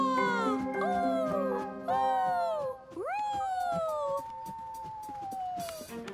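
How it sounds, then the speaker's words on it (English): A dog howls in long, wavering cries that rise and fall, three or four of them in a row, the last one drawn out and sliding slowly downward. The howls sound close and clear. "By the time the evening came, the howling was so loud"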